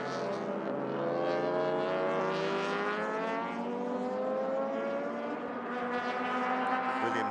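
Race cars in a Malaysia Championship Series 2019 race on a circuit, engines roaring in a loud continuous drone with rising and falling pitch as they pass, heard without talking.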